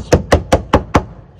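A delaminated boat deck panel with core failure tapped five times in quick succession, producing dull, hollow thunks that are evenly spaced and close.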